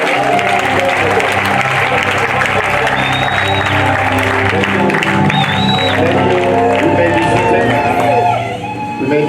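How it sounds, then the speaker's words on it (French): A church congregation applauding and cheering loudly, dense sustained clapping mixed with shouts and whoops that carries on for several seconds before starting to fade at the end. "Est-ce que nous pouvons acclamer très très fort?"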